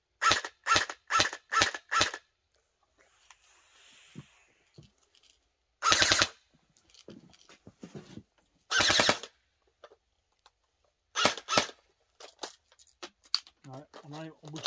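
A CSI XR5 S.T.A.R airsoft replica fires sharp bursts of rapid shots, several quick strings separated by pauses, until the magazine runs dry; someone speaks quietly between the bursts.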